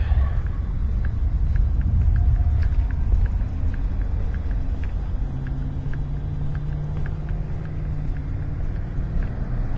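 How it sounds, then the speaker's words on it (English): A money truck drives past on a road at the outskirts of Tempe Diablo Stadium, heard as a steady low engine rumble that holds for the whole stretch, with faint wind and distant background hum and no talk. "It's not every day you get to see a money truck."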